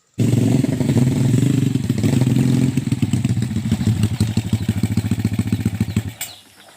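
A motorcycle engine runs close and loud with a steady, throbbing idle for about six seconds, then cuts off abruptly, with no talking over it.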